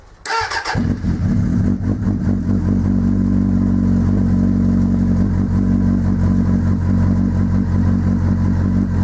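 A Suzuki GSX600 motorcycle engine fires up on full choke and settles into a loud, steady, even idle close by, running alone without any talk.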